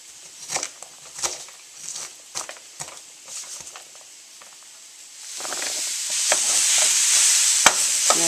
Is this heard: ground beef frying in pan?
yes